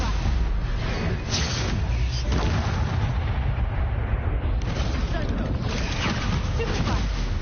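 Confringo and Stupefy spell blasts in the Hogwarts Legacy video game, loud booming bursts and crackling impacts layered in a dense, continuous barrage of combat noise, with a voice calling out over the blasts.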